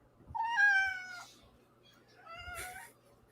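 A cat meows twice in a drawn-out, wavering way, the first call longer and the second shorter a second later, close and fairly clear over a faint background hum.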